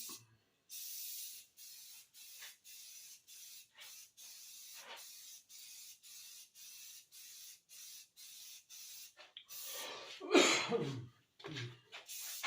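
Spray paint applied in a light flash coat to a riding mower hood: a steady series of short hissing bursts, close and fairly quiet, with a brief throat clearing and clatter near the end.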